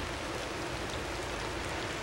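Steady rain falling on a 42-degree day at the end of a snowstorm, an even, unbroken hiss of drops throughout, close and moderately loud, with no voices.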